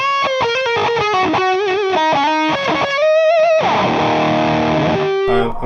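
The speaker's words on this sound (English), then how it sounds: "giving us a bit more of an aggressive kind of distortion" Electric guitar through a BOSS DS-2 Turbo Distortion pedal plays a run of gritty, sustained notes and bends, then a heavier crunching chord rings out, loud and saturated.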